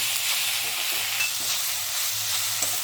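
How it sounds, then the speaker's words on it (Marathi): Ginger garlic paste, coriander-cumin powder and salt stirred in a pan, with a steady close sizzle of frying under repeated scraping strokes of a spoon, continuous and fairly loud throughout. "आलं लसूण पेस्ट, धना जिरा पावडर, चवीपुरतं मीठ, सगळं व्यवस्थित मिक्स करून घेऊया।"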